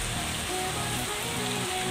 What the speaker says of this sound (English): With time, the rain has become heavy.